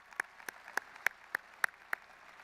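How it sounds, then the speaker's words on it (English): At a senior high school graduation ceremony, faint clapping comes as about seven evenly spaced, separate claps in a slow, steady rhythm, sounding distant and sparse rather than a full crowd. "I think that's enough for a round of applause."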